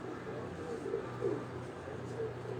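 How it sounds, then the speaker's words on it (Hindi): A pair of pigeons, male and female, coos softly and steadily at close range over a low continuous background hum, with no other clear sounds. "ये दोस्तों वो जोड़ा है जो कबूतरों का जोड़ा मैं आपको दिखा रहा हूँ।"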